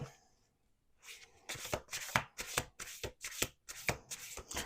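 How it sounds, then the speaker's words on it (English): Tarot cards riffle-shuffled in a series of quick bursts, about nine crisp rapid flutters in close succession after a brief quiet start, near and alone. "let's do 2 more shuffles"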